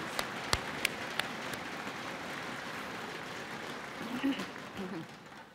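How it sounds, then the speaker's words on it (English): Audience applause at a Richland College fall convocation honoring teaching-award finalists: a few sharp claps at the start swell into a steady, fairly faint wash of clapping filling a large hall. "Let's applaud both of them for their nominees."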